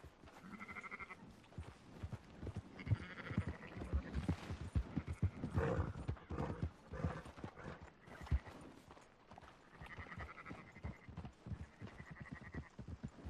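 Sheep bleat repeatedly in short wavering calls amid a herd in the video game Red Dead Redemption, mixed with hoof clip-clop and shuffling movement, fairly close and moderately loud.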